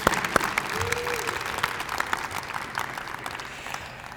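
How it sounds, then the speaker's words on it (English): An audience at a senior breakfast event claps in a round of applause, crisp close hand claps at first settling into a steady crowd patter that gradually softens toward the end, with a brief voice audible early on. "Let's give another round of applause"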